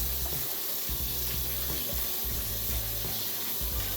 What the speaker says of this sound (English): let me wash off this broccoli real good